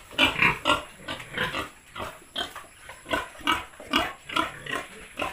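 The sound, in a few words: pigs grunting on a farm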